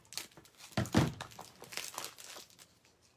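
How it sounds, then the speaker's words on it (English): Scissors cut through craft ribbon in a few short crisp snips and rustles, close by and fairly loud, with no talking. "So let's cut the ribbon,"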